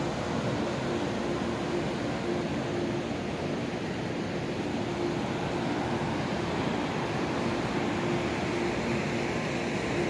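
Steady broadband rushing of a river flowing along its bank in the Valley of Flowers, a mountain trek setting, continuous and fairly loud throughout with no talk.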